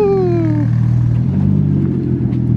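Toyota Supra fitted with a Tomei exhaust, engine revving close by: a loud rising whine that falls back into a deep steady rumbling idle, with no talking over it.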